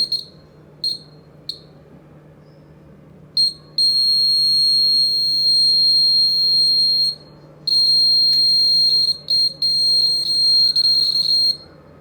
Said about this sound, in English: the buzzer will start making sound.